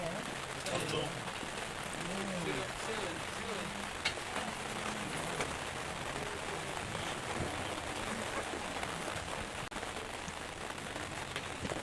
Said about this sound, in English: this has gone from spitting to rain